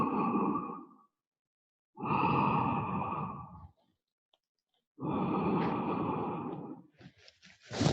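Three long, deep breathing exhales during a gentle hatha yoga pranayama session, close and steady, each lasting about two seconds with silent pauses between, ending with a brief rustle.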